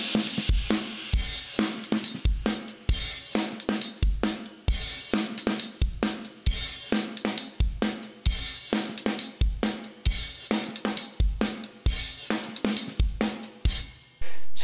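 A drum kit plays the funky intro groove of a song, with punchy kick and snare hits and crisp cymbal work in a steady repeating pattern, loud and close with no voices.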